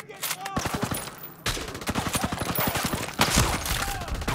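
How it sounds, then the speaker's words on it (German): Rapid bursts of gunfire from enemies shooting down from higher ground in the co-op PC shooter Ghost Recon Breakpoint, loud and near, with dense rattling volleys broken by a short lull and resuming harder. "die schießen von oben, das ist nicht so gut"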